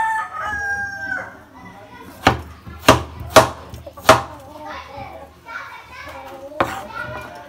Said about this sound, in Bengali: আলু কাটা কমপ্লিট।